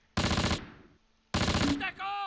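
Machine-gun fire in the World War II tactical game Close Combat comes as two loud, close, rapid bursts separated by a short pause. The second burst trails into a ringing tail.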